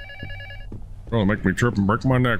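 A game phone rings with a repeated electronic bell tone at the start, then someone talks over it in a haunted-house game.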